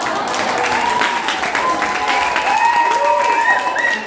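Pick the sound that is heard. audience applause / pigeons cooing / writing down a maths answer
audience applause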